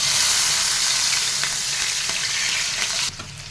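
Onion, green chilli and curry leaves sizzle in hot oil in a pan for a dosakkaya tomato curry, a loud, continuous crackling fry that eases off suddenly near the end.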